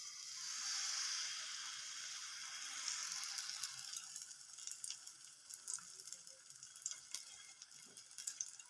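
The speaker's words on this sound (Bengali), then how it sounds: "প্যানটা তো ভালো মতো গরম হয়ে গেছে। এবার আমি ব্যাটার দিয়ে দেবো অল্প করে।" Vegetable batter sizzles steadily in a hot pan, a bright continuous hiss that is strongest at first, then settles into crackling pops and small scraping stirs from a ladle.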